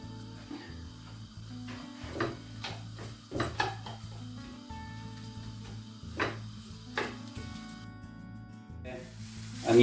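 Two medium sliced onions fry in oil in a home kitchen, a quiet, steady sizzle with soft crackles running underneath sustained tonal sounds.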